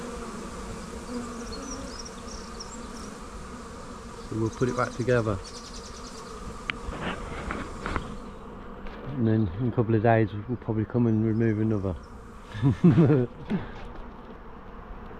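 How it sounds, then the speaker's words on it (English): A honey bee swarm hidden inside a box during a swarm removal at a bridal boutique gives off a steady insect hum beneath someone speaking, with clattering handling noises in between. "we reckon we got the queen because the bees are hidden in the box"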